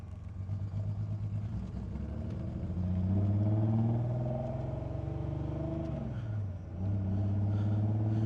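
A Datsun 240Z on its first drive in two years, heard from inside as a steady engine drone that rises in pitch, then winds down as the car slows to a stop and settles into idle.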